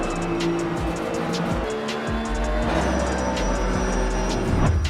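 A car engine in a mobile driving sim game drones steadily and loudly throughout, with a constant hum and faint rising tones that suggest an engine holding revs.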